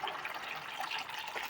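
Hot water pours steadily into a cooking pot of mutton curry, a continuous splashing gush at close range with no voices.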